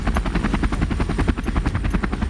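A Chinook military helicopter flies with a rapid, steady chop of rotor blades, a loud, close, pulsing thump under a buzzing engine whine, with no one speaking.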